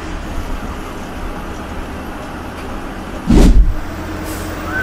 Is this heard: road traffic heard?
yes